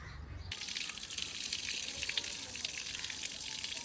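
Water spraying steadily from a hose pipe onto freshly plastered wall, a continuous close hiss and splash that starts abruptly and holds at an even level.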